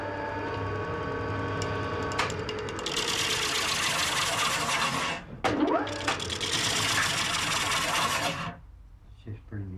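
Wood lathe turning a spinning wheel part for an Irish spinning wheel, with a loud rasping cut that runs in two long stretches broken by a brief pause over a steady motor hum, then fades.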